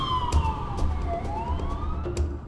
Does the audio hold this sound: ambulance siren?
yes